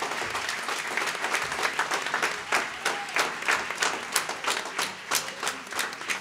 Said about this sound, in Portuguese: eu gostaria de pedir mais de uma grande salva de palmas aqui para o bailinho dos amigos do Carnaval